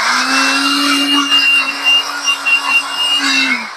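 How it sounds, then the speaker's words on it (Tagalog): A Ryoku cordless vacuum cleaner runs close and loud with a steady motor whine and airflow rush for nearly four seconds, then winds down abruptly as it switches off. "Dito ka na magba-vacuum."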